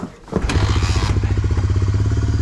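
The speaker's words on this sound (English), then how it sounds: "let's turn the gas on here and the choke and fire this thing up" A Honda FourTrax 300 4x4 ATV engine cranks briefly, then catches and settles into a steady, throbbing low idle, loud and close.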